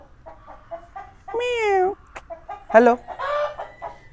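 A rooster at Sood Farm in Hoshiarpur lets out one loud, drawn-out call in the middle, then a sharper squawk-like cluck, with a person talking softly before and after.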